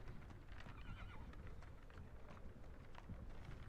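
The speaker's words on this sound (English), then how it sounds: "I hear a horse" A horse whinnies faintly in a video game amid steady rumbling rain-like noise and hoof clip-clops, all blended into a dense, continuous background.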